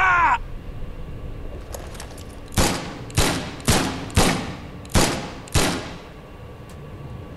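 Gunshots in The Sinking City video game, five loud sharp reports spaced about half a second apart, each with a short decaying tail, following a brief cry.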